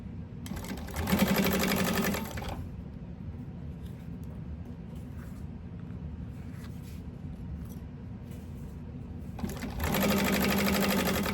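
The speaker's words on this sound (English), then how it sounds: "So I'm going to stitch this at the seam allowance that she gives." A sewing machine stitches a fabric seam in two loud, steady bursts, one near the start and one at the end, with quieter handling and room noise between.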